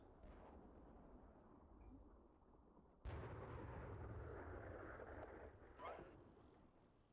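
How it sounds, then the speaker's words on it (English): Close tank cannon fire in the Steel Beasts Pro PE simulator during a Finland campaign defence mission, a sudden heavy boom at about three seconds followed by a lingering rumble and a second burst, over a low rumbling battlefield background. "I am hearing very close tank fire from Charlie 4-3."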